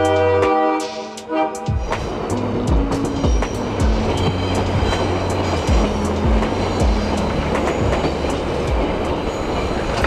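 The Peru Rail Lake Titicaca train rolling along the rails, with a steady clickety-clack of wheels over rail joints and low rumbling, near and loud after a brief opening swell.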